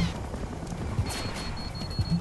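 Muffled bursts of gunfire in the video game Splinter Cell: Blacklist pop in a busy, noisy mix, with a couple of heavier low thumps near the start, middle and end.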